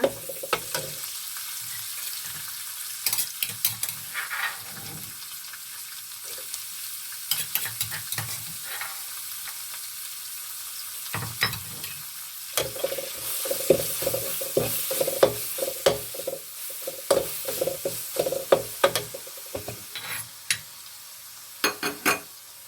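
Pork belly stir-fried with pounded Thai curry paste in a hot pan, with scraping stir strokes and sizzling bursts, quiet at first and then fuller, steady frying.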